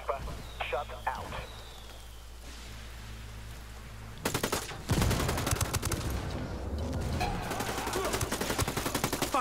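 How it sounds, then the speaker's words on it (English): Sustained automatic gunfire in Ghost Recon Wildlands, loud and dense, rattling continuously through the second half after quieter game ambience and talk, with voices speaking over the shooting. "Opening fire on these fuckers."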